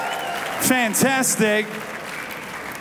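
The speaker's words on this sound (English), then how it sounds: "Give yourselves a round of applause" A church congregation applauds in a steady wash of clapping that carries on under a voice speaking briefly near the mic, then continues on its own.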